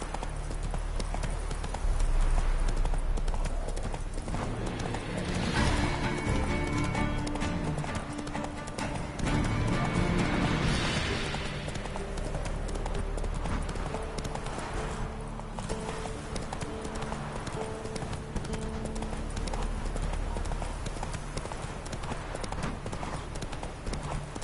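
Roach, the horse from the video game The Witcher 3, galloping with a continuous rhythmic drumming of hooves, dense and loud under game music and ambient noise.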